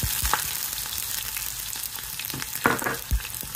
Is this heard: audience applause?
no